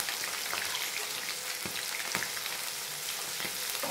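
Peas fry in a pan at a steady, crackling sizzle, with a few sharp pops and ticks scattered through it. The sound is close but moderate in level, and no one speaks.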